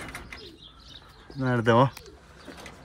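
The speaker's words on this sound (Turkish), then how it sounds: "Sonra takas ettiğimiz güvercinler, nakışlılar arkadaşlar." Domestic pigeons, including traded decorated birds, give a clear, close cooing call of a few pulsing notes, with a person speaking briefly around it and faint bird sounds in the background.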